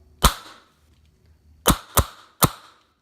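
Polestar Kryjack airsoft rifle fitted with a K-Tech amplifier firing four sharp, close pops: one shot, a pause, then three quicker shots in a row, with no talking.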